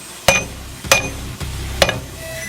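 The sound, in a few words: large hammer striking a wooden board to test it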